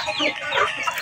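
Chickens clucking in a breeding pen holding ten hens and two roosters, a close, busy stretch of overlapping hen calls and fowl chatter lasting about a second, with no talk.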